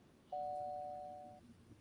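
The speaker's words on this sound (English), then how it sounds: "I heard the doorbell ring." A single electronic doorbell chime rings out clearly over quiet background hiss, a sustained tone that fades after about a second.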